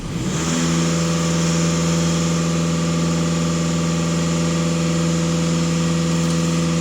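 A Volkswagen Passat 2.0 TDI diesel engine, US-market version, is held at about 2500 rpm after rising from idle, a steady close drone with strong low harmonics and no talk.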